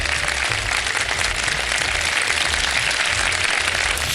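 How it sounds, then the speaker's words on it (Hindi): Studio audience on a Pakistani television quiz show applauding, dense and steady clapping from a large crowd that fills the whole stretch at a loud, even level. "आप लोगों की भरपूर तालियों में तशरीफ ला रही हैं"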